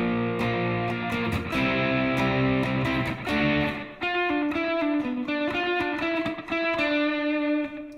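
Distorted electric guitar lick with effects, quick picked notes and pull-offs, then a brighter flicked-string phrase, played close and loud for about eight seconds with no talking.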